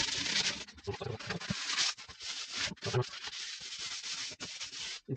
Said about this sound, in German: wir wollen jetzt nicht das Gummi unnötig kaputt schleifen